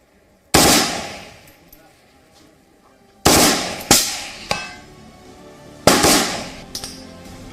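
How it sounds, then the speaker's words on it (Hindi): An AK-203 rifle fires on full automatic outdoors, loud sharp reports arriving as separated bursts with quiet gaps between them and echoing decay after each shot. "फुल ऑटो में डाल दिया यानी ये एक बार फायर ट्रिगर दाबने के बाद ये लगातार फायर करेगी।"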